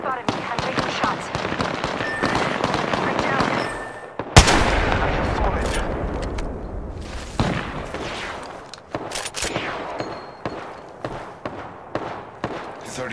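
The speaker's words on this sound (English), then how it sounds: "They spotted me. I'm taking shots." Gunfire in the Apex Legends battle royale video game: dense rapid bursts of automatic weapon shots with sharp cracks and a heavy blast, continuous and loud across the whole span.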